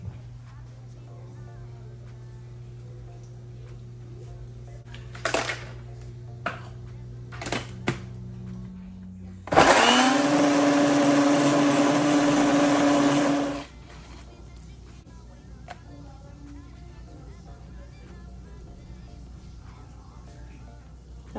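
A home blender whirs loudly for about four seconds, blending a banana mango protein smoothie with ice and milk, after quieter handling clicks and a low hum, then stops abruptly.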